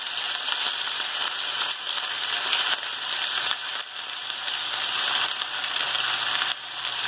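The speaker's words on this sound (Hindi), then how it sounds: "इसको हमने थोड़ा सा फ्राई करना है, ब्राउन करना है।" Crushed garlic fries in about two tablespoons of hot oil, giving a steady, even sizzle and crackle, close and moderately loud with no talking.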